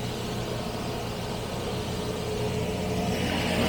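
A Jaguar V12 engine idling on partial choke while running on a missing cylinder, a steady, rough, close-up drone that holds continuously with no pauses.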